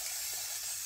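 Short burst of vinegar water sprayed from a spray bottle onto old window glass, a steady soft hiss lasting under a second with no talking.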